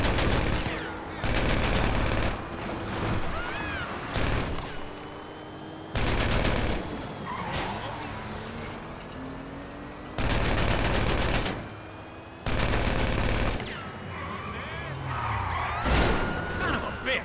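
Video game gunfire in GTA 5: loud, sharp volleys of shots come in several separate bursts, with a voice and game noise underneath between the volleys.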